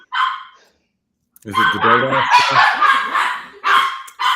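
Two dogs bark excitedly at someone at the door, a short yelp then a run of overlapping high, shrill barks close by, with a person speaking briefly among them.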